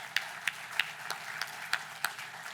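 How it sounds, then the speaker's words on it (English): A handful of distinct claps, about eight spaced sharp hits at an uneven pace, ringing in a room over a faint background hush as an audience at an anniversary event responds. "So give them a round of applause."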